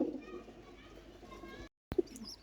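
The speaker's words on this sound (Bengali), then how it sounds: "এখানে এক পেয়ার কবুতর আপনারা দেখতেছেন এইগুলো দুর্দান্ত লেভেলের কবুতর" A pair of pet pigeons kept at home coo softly in low, throaty bursts, with a short break of silence near the end, and faint human sounds mixed in.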